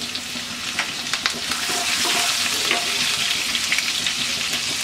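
Chopped ginger and green chillies fry in a pan with a loud, steady sizzle, broken by crackles and the scrape of stirring throughout.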